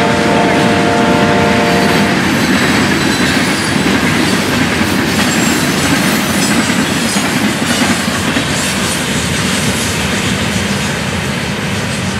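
A heavy freight train rumbles past close by, a steady loud roar of wheels and cars with a brief horn-like tone at the start.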